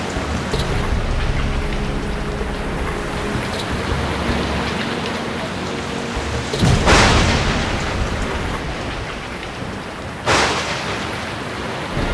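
Steady rain pours down in a dense, continuous hiss, broken twice by sudden loud bursts that sound like thunder or a heavy gust, and no one speaks.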